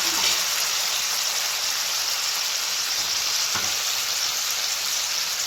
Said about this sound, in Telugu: చికెన్ ఫ్రైకి ఇందులో ఈ మసాలా పట్టించిన చికెన్ పీసుల్ని వేసేద్దాం